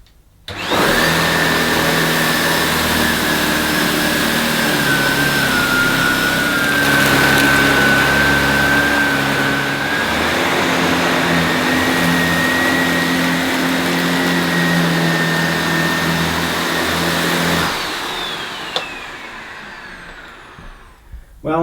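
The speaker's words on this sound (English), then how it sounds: "Let's see if the Sebo dart can give us a nice clean sweep." A Sebo Dart 1 commercial vacuum cleaner runs loud and close with a steady motor whine and brush hum as it sweeps carpet, the pitch shifting slightly with forward and backward passes before it switches off and spins down.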